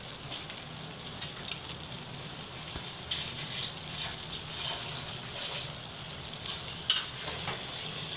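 Onion fries in a pan with a soft, continuous sizzle, fairly quiet and steady, with an occasional faint clink near the end.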